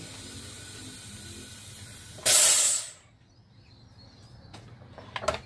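SodaStream machine carbonating a bottle of diesel gives a short, sharp hiss of gas lasting under a second, followed by quiet bubbling and faint clicks in a calm indoor space.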